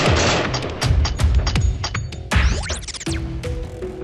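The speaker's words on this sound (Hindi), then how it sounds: "साबिर, जिसने 24 फरवरी को लंबी बंदूक से ताबड़तोड़ गोलियां दागी थी।" Sharp bursts of gunfire from a long gun crack in quick succession, loud and close, followed by a brief lower ringing tone.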